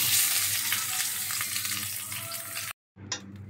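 Salmon fries in a hot pan with a dense, steady sizzle that fills nearly three seconds, then cuts out abruptly before a quieter crackle returns.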